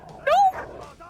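A dog gives one sharp, high yelping bark that slides upward, followed by a softer whimper, close and loud, amid shouting voices.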